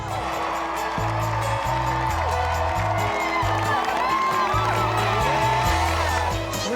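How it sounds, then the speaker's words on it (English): A crowd of people cheers and whoops outside a family's newly renovated home on a home makeover show, a loud continuous roar of voices over steady rhythmic music. "There's people cheering for us"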